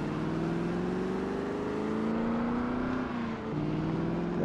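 Car engine in the Project Zomboid video game, a steady droning hum that rises slightly in pitch and dips briefly near the end, heard alone at moderate level.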